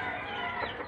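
A small chicken on a mini farm clucks briefly, a soft, close, murmuring call lasting under a second.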